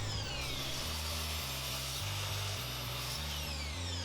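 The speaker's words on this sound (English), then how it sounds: "Now I'm going to take those to the miter saw and cut them to 45-degree angles." A miter saw cuts wooden picture frame pieces at 45-degree angles, giving a steady, loud motor whine that runs without a break and sits close by.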